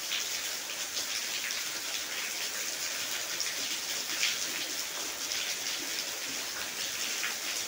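Peshawari gram-flour pakoras deep-fry in hot oil, a dense, even bubbling hiss that runs without pause, fairly close and steady throughout.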